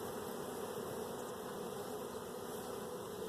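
Honey bees buzz steadily around nuc hives during an inspection of six nucs on a pallet, a dense, even drone close by that holds at constant loudness throughout.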